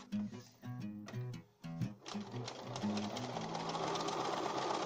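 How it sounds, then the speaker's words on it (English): A domestic sewing machine stitches around a striped cotton pocket for a 1950s beach coat, running in short whirring bursts with pauses as the corners are pivoted, then in one longer continuous run, close and fairly quiet. "I then stitched around the edge of the pocket, pivoting at the corners and leaving an opening"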